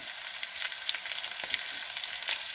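Chopped onions with a pinch of salt frying in an oil-coated pan, a steady close-up sizzle with light crackling and brief stirring bursts throughout, no voices.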